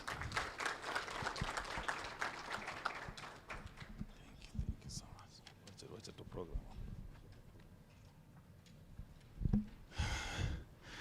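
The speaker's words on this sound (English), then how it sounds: "Kindly let's clap for him." Audience applause at a Kenya National Bureau of Statistics launch of a report on unpaid domestic and care work, fairly faint and strongest in the first few seconds before thinning out, with voices and murmuring around it.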